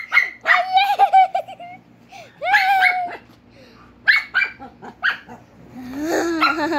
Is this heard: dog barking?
yes